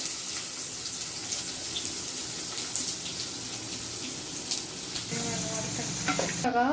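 Small onions (shallots) dropped into a hot pan and frying, a steady sizzle with stirring and scraping throughout, ending in a few sharper clatters near the end.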